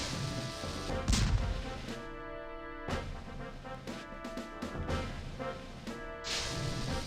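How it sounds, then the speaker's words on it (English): Cannon fire in Spyro the Dragon: several heavy booming blasts with crashing impacts land over a steady game music bed, loud and close. "you can actually use these cannons"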